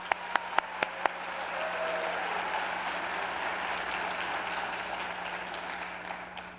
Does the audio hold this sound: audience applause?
yes